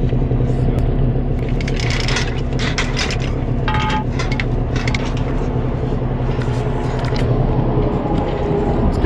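Truck engine straining at highway speed while hauling a tank on a prairie highway, a steady low rumble with road and wind noise throughout, with faint talk over it.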